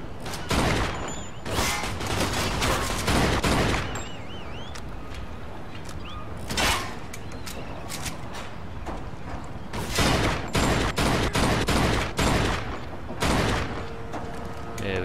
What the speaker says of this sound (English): I'm doing some terrible shooting right now.